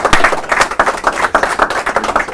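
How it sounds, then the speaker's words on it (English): Audience applause at a city news conference with the Albuquerque mayor, a steady burst of many hands clapping close by, dense and uneven, with no talking over it. "You can all clap now if you want."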